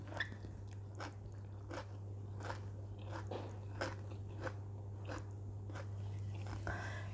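Someone bites into and chews a crisp lettuce wrap filled with tender pork belly, about a dozen close crunches in a steady rhythm over a low constant hum, with no talk.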